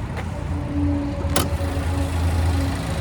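The turbocharged four-cylinder engine of a 2024 Cadillac XT4 Premium Luxury idles with a low, steady hum. One sharp click cuts in briefly near the middle.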